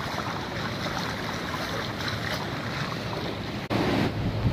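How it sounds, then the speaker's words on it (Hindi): Fast floodwater rushes over a damaged road near a toll plaza around Kullu-Manali after a flood: a loud, continuous broadband roar close by, with a sudden bump and a slightly louder surge near the end. "पानी का बहाव बहुत तेज़ है"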